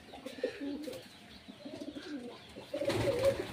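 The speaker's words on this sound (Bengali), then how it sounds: "আজকে বৃষ্টির জন্য পায়রাগুলো খেতে দিতে পারলাম না" Pigeons kept indoors in a room on a rainy day coo softly and repeatedly close by, their low rolling calls overlapping with faint rustling and no talking.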